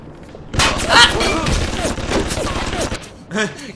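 Rapid gunfire bursts from BioShock Remastered, loud and dense with short booming blasts, mixed with game sound effects and brief vocal sounds.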